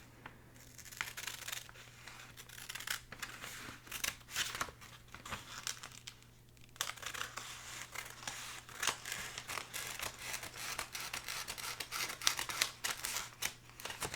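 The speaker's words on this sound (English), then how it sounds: "we're just going to cut down this line that presents itself" Scissors cut paper along a line for a new book cover, giving close, soft snips and crisp crinkles in an uneven rhythm over a faint low hum, with a brief lull before the cutting picks up again.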